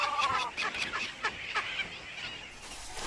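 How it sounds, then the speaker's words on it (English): Seabirds call on a mangrove-covered atoll. Several quick, squawking cries follow one another over a few seconds and sound moderately near. "Seabirds also come here."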